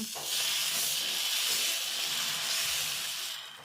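Dosa batter (attu) poured onto a hot griddle hisses and sizzles steadily, a close, bright steam-like crackle that swells after a brief start and fades slightly at the end, with no speech.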